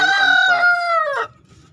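A Bangkok rooster crows once up close, a loud drawn-out call with a rising then falling tail lasting just over a second, followed by faint low barnyard murmur.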